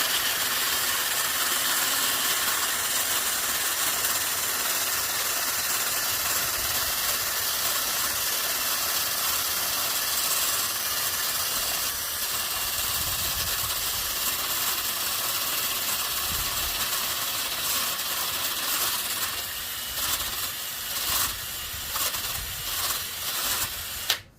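A continuous hiss of spray on a rusty Craftsman Bushwacker mower runs steadily throughout, with faint engine running underneath and a few brief rattles toward the end.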